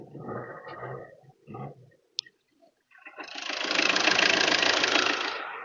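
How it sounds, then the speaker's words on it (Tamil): A used car engine starts up with a few short cranking bursts and a click, then settles into a steady idle, moderately loud and close, with no talk over it. "இன்ஜினோட பீட் அப்படியே கேளுங்க"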